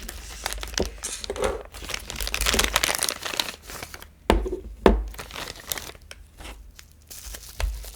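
A sealed plastic bag holding a rechargeable thread-zapping tool is cut and torn open, giving close crinkling and rustling with sharp tearing snaps, loudest in a few bursts near the middle.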